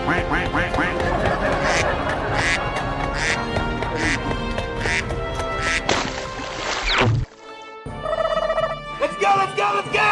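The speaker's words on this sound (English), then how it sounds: "Quack, quack, quack, quack, quack, quack." Repeated duck quacks sound over busy background music in a 3D animal slide game with a cow, elephant, gorilla, hippo and tiger. They come in a quick, loud series, then the music briefly cuts out.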